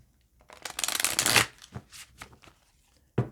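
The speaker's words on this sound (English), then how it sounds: "I'm going to shuffle one more time" Tarot cards being riffled and shuffled up close, a dense crisp flutter building for a second, followed by a few soft taps and a final snap.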